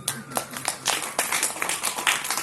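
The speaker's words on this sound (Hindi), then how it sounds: "पता है सब लोगों ने ताली बजा दी" A seated audience claps together on cue during a spiritual talk, producing a dense, lively patter of many hands. It rises sharply and holds steady for a couple of seconds, close and fairly loud.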